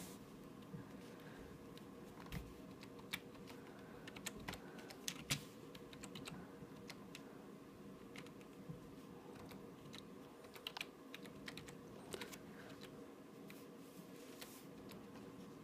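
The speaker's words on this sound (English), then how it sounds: "So I type in what I want" Keys on a computer keyboard clatter in quick, irregular bursts of close, faint clicks and taps, continuing steadily throughout with no talking.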